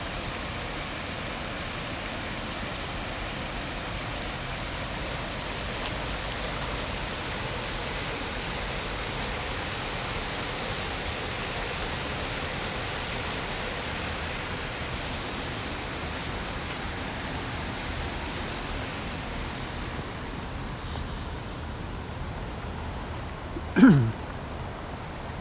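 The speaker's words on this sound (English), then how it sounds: "This is a weir, or one of the weirs." Steady broadband rush of water pouring over a river weir in Oxford, continuous and fairly loud for the whole stretch, with one brief sharp knock near the end.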